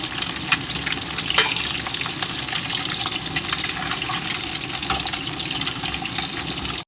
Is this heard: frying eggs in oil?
yes